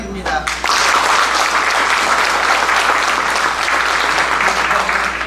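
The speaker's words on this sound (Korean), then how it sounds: "많은 박수 부탁드립니다." Sustained applause from a seated audience at an academic conference, starting abruptly after a brief voice and continuing as dense, even clapping to the end.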